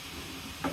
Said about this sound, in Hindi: इधर जो है हमारा मसाला भी भुन रहा है।